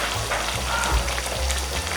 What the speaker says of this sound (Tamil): பாருங்க, இப்பவே உங்களுக்கு கொதி வந்துடுச்சு.